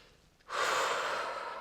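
One deep breath is drawn and released during yoga after a quiet moment, a long airy rush that swells and slowly eases off.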